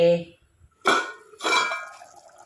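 A short voice, then two metallic clanks in quick succession as a lid is set onto a pot of sardine curry, the second ringing briefly.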